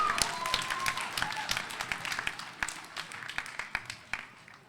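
Scattered applause rises from the audience at a high school spoken word poetry event, moderately loud and gradually breaking into sparser individual claps.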